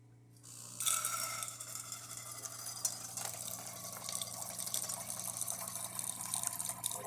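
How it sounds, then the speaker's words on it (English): A DeLonghi Magnifica S espresso machine dispenses hot water with a steady hiss and splashing trickle, close and fairly quiet, over a low mechanical hum. "So let's test also the hot water."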